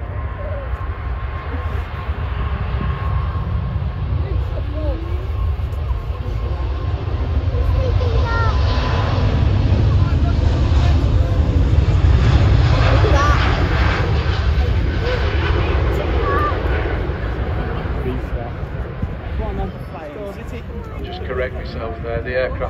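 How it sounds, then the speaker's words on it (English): An Emirates airliner takes off at Manchester Airport, its engine roar building into a loud, sustained rumble that peaks and then slowly fades, heard from a distance. "The aircraft did in fact actually take the full length of the runway"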